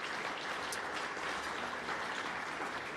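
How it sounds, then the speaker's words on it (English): Ballroom audience applause at the 2017 Rolex LPGA Awards, a dense, steady wash of many hands clapping at moderate loudness throughout. "So I think that deserves a really big round of applause."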